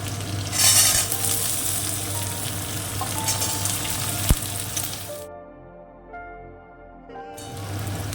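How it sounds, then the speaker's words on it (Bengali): Potato fries in a pan with onion and garlic, a dense, close sizzle that holds steady and briefly turns muffled and duller before the full crackle returns. "পেঁয়াজ আর রসুনটা হালকা একটু যা ভাজা হয়েছে দিয়ে দেবো এবার আমি আলুটা"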